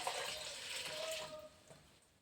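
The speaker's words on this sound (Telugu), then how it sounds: "ఇక నీళ్ళు వేసుకోవాలండి." Water pours into a vessel of flattened rice with a splashing rush that gradually fades and tapers off near the end, fairly quiet and close.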